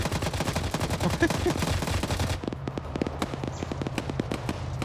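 Rapid video-game gunfire in an Arma PvP police-versus-criminals match on a Sri Lanka map, dense overlapping shots first, then sharper individual cracks in a steady rhythm, loud and close.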